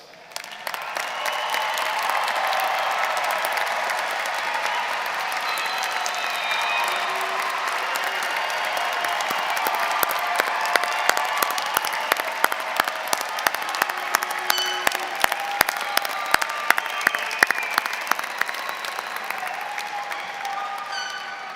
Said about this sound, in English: give our class of 2021 and all who traveled this journey alongside them a big round of applause